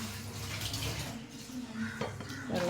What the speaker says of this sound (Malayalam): നമുക്കിനി ഇത് കുറച്ച് വെള്ളം ചേർത്ത് ഒഴിക്കാം